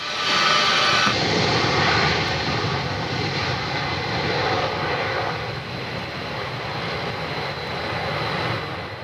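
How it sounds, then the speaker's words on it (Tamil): A Boeing C-17 Globemaster military transport roars at the Bangalore air show in 2015, its loud, steady jet engine noise filling the whole stretch with no voices. "இந்த பிரம்மாண்ட C-17 குளோப் மாஸ்டர் போயிங் விமானம் உயர்ந்த மலைச்சிகரங்களிலும் தரையிறங்கக்கூடியது"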